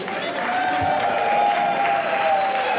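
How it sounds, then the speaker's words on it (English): Applause and cheering from a convention audience at a bartending competition form a steady, loud wash throughout. "applause, please."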